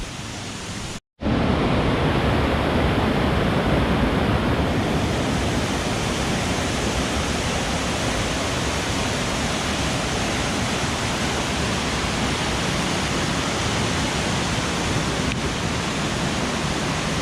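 Water rushes loudly down Flume Brook at full flow, a steady, close roar that holds almost unbroken after a brief cut near the start.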